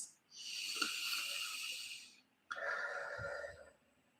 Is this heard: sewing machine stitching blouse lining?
no